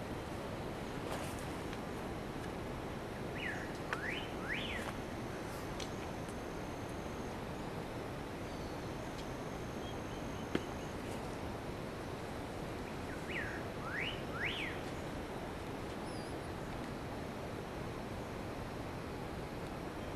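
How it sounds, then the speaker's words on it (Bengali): Birds chirp faintly in two short, widely spaced bursts over a steady wash of wind-like hiss in a quiet mountain forest on the Dzongri and Goechala trek. "চারিদিক নিস্তব্ধ পাখির আওয়াজ পাওয়া যাচ্ছে খালি"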